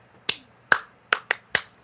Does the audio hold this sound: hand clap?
yes